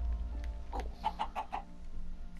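A chicken in the Minecraft video game clucks in a quick series of four or five short, evenly spaced calls over low background rumble.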